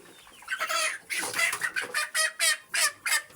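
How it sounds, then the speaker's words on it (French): A hen being handled for beak trimming with scissors clucks repeatedly in quick, rhythmic bursts close by, a steady run of short throaty calls. "Voilà une poule."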